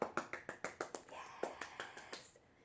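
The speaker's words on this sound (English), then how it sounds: "If you think we can do it, clap your hands." A small group of children claps hands, about a dozen sharp, fairly quick claps close by, with a short pause midway before a few more trail off.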